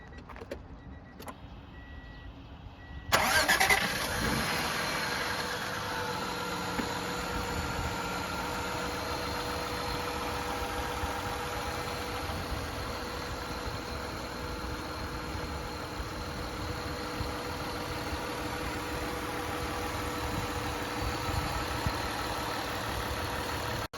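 A 1994 Acura Legend GS with a six-speed catches after a short crank, then settles into a smooth, steady idle that hums on evenly and close by for about twenty seconds, with no one talking.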